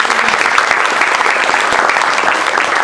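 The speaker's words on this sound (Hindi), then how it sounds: "तो उनके लिए भी ताली।" An audience at a college event claps steadily and loudly in a sustained burst of applause.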